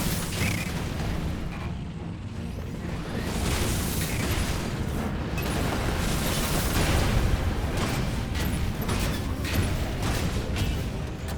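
Tank-on-tank combat in the video game Knack 2, with continuous heavy booming explosions and rumbling blasts filling the scene at steady loudness, alone with no voices.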